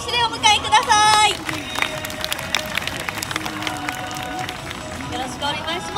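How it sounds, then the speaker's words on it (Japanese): Applause from a crowd at a girls' festival stage event in Yokohama welcoming a guest up on stage, quick scattered clapping with a brief loud burst early on, then softer crowd noise and voices continuing underneath. "皆様拍手でお迎えください。"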